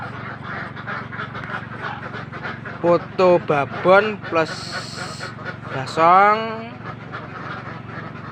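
Jumbo Manila entok (Muscovy) ducks from Tulungagung, East Java, give a handful of short, raspy quacks in quick bursts, close by, while someone talks over a steady background hum.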